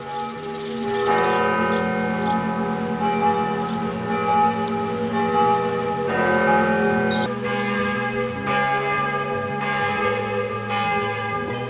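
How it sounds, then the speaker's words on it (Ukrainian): Church bells ring at Paderborn Cathedral, whose main bell is one of the largest church bells in Germany. The rich, sustained peal of several bells comes loud and steady, with new strikes layering over the lingering hum. "А головний дзвін Падерборнського собору зараз є одним із найбільших церковних дзвонів у Німеччині."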